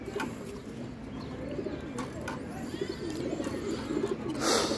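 Domestic pigeons coo in low, repeated rolling calls close by, with a steady background murmur and a brief brighter sound near the end; no one speaks.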